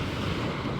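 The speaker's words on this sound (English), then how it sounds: "I hope you can hear this over the waves." Ocean waves wash onto the shore in a constant, close roar, mixed with buffeting wind noise on the microphone.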